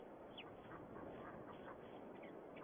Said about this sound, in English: we have got ourselves some chicks, some ducklings, some ducks.